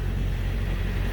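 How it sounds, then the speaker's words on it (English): A truck with a Cummins N14 diesel engine idles nearby while a refrigeration reefer unit runs, making a steady, loud low rumble and drone with no breaks. "There's a reefer running"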